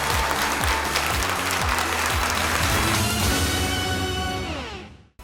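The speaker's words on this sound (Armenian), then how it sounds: "Հաջողություն ենք մաղթում, եկեք բարձր ծափահարենք" Studio audience at the Got Talent Armenia semi-final bursts into loud, dense applause that holds steady for several seconds, then tapers and cuts off.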